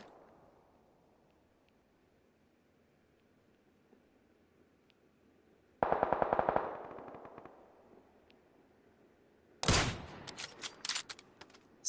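Automatic gunfire in a video game: a rapid burst of shots near the middle, then a second, sharper volley of cracking rounds toward the end, loud against a quiet background with no talk.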